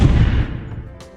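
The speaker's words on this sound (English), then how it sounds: "Alia tries to destroy the robot with her blasting gun, but it had no effect." A cartoon blasting gun fires at a robot: one short, loud, booming blast that decays quickly, with a faint high zap trailing after.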